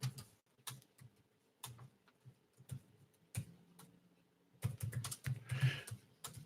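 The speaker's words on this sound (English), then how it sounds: "I'll just type out a little thing on the chat to get it going." Keystrokes on a computer keyboard come in short irregular bursts with pauses, close and fairly quiet, growing into a denser flurry of taps toward the end, with no talking.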